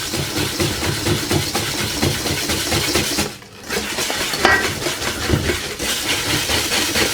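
Flour, sugar and cornflour are stirred together in a bowl as cannelé batter is started, giving a continuous busy scraping and rustling texture that briefly drops out mid-way before resuming, with no talking.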